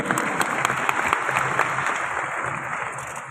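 An audience at the Daraz summit 2023 event breaks into loud, sustained applause. The clapping is dense and even and fades slightly toward the end.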